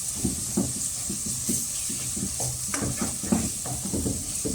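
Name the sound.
stirring vegetable fried rice cooking in a pan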